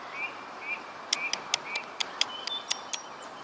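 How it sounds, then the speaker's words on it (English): Birds call across a grassy meadow: a series of sharp, high chirps and ticks in an irregular rhythm, mixed with brief whistled notes, fairly close and moderately loud over a soft outdoor background. "like all the bird noises you can hear."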